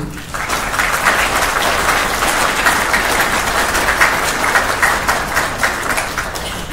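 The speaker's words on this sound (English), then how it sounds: "could we have a big round of applause for the families who supported you?" Sustained applause from a large crowd at a military field artillery battalion ceremony, steady and loud throughout with no voices standing out.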